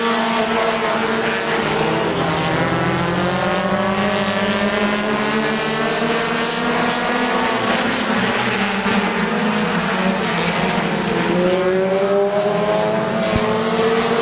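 Race cars at Midvale Speedway roar past in a continuous, loud engine drone, with pitch rising and falling as they race closely on the oval track; no voices are heard.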